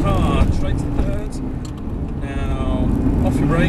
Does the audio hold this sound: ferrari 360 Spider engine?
yes